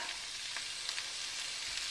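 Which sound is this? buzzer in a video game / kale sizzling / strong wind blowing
kale sizzling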